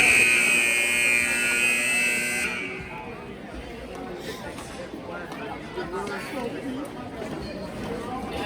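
A loud, steady buzzer blares across a hockey arena for about two and a half seconds to end an exhibition game period, then cuts off, leaving crowd chatter and a commentator talking over the arena hubbub.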